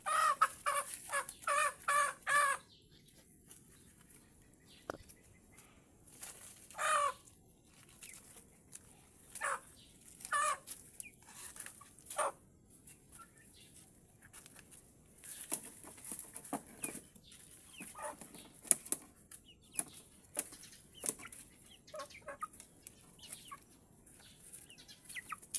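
Chickens cluck and squawk nearby in short bursts, busiest at the start, then scattered calls over quiet background noise, as they squabble over a frog.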